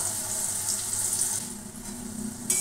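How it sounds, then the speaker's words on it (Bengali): Bitter gourd pieces fry in a pan, a continuous moderate sizzle that shifts slightly in tone, with no voices. "তবে আমার উচ্ছেটা ভাজা হোক।"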